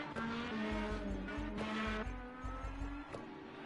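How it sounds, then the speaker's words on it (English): Racing cars in an Indy racing video game spin in the pit lane doing donuts, with a droning engine note and repeated squealing tire skids. "Big Rig and Dylan are still spinning in the pit lane, just doing donuts."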